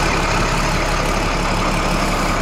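A haul-and-tow truck for camper transport runs through a TIG-welded straight-through muffler, producing a loud, steady, close engine drone with a broad rumble that holds constant throughout.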